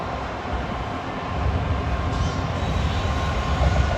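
A train rolling into the rail yard at Linwood, a steady low rumble of wheels and cars that grows slightly louder, heard alone without talk.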